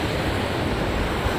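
Beach surf and wind make a steady broadband wash with no distinct breaks, heard close and fairly faint with some wind rumble on the microphone.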